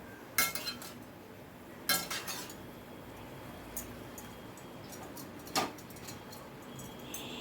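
Dal mixed with greens is stirred in a pan, giving a few sharp clinks and scrapes of a metal spoon against the pan over a faint steady background hiss.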